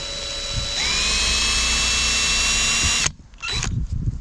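A hand drill enlarging holes in a metal race car part, a steady high whine that spins up near the start, runs loud and close for about two seconds, then cuts off, followed by brief clatter and handling noise.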